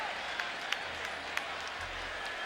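Steady crowd roar fills a college football stadium during a 2009 TCU versus Utah game, a continuous wash of noise with a few sharp claps or shouts poking through, and faint talk underneath.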